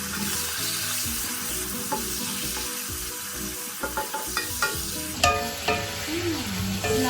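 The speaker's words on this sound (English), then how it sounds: "so we have to cook first the meat" Meat sizzling with garlic in a pan, the first step of Philippine-style low-carb stir-fried noodles: a steady close frying hiss with repeated scraping and clanking strokes of a utensil stirring, and no talk.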